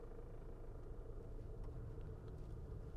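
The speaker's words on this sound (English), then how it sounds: "the car is just going down on its own, braking" A Land Rover Discovery Sport TD4 automatic with 4WD rolls down a hill under hill descent control, producing a faint, continuous low rumble of engine and road noise with no talking.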